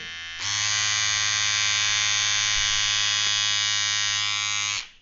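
A Powertec electric beard trimmer switches on and runs with a loud, steady, high-pitched buzzing hum for several seconds before cutting off, close up and without talk.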